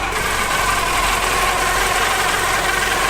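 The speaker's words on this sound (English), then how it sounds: "I think it's the power steering pump" Mercedes 190E EVO 2 running with a failing power steering pump, a loud steady droning whine and rattly vibration over the engine idle, constant and close with no talk.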